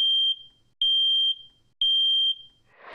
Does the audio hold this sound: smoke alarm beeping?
yes